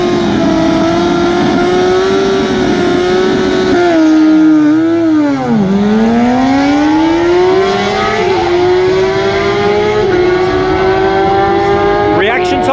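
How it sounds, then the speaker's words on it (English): GSXR and Yamaha R6 sport bikes drag race at Perth Motorplex, engines screaming loud and close in sustained high revs, pitch dipping as they shift and rising again, with commentary voice underneath. "Couple more sports bike riders coming through. Looks like a GSXR on the left there, and closest to me an R6."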